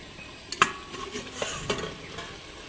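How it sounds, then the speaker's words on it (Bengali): Chicken frying in an iron kadai being stirred, a soft sizzle under a few sharp metal scrapes and clinks of the spatula against the pan, close and short with no talk. "ভালো করে নাড়াতে হবে যাতে মাংসটা কড়াইয়ের সাথে লেগে না যায়"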